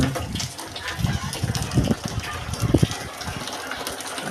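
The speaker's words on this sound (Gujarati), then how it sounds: "ધાબામાંથી પાણી પડી રહ્યું છે" Rainwater pours off a rooftop terrace during a morning downpour in Bhavnagar, a steady broadband rush with uneven splashing thumps, close and fairly loud throughout.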